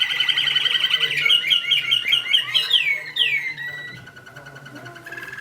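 An American singer canary sings loud and close, running through rapid repeated chirps and rising whistled trills in steady bursts, with faint background noise.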